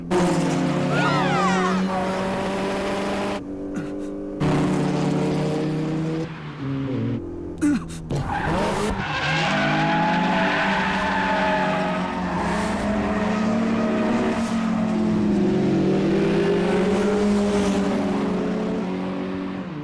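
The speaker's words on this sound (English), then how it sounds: "Both cars are slipping through something this tricky?" Race cars in the anime Initial D slide through consecutive downhill corners, with engines screaming and revving near and loud, pitch sweeping up and down through shifts and brief cuts, broken by short gaps, with some speech mixed in.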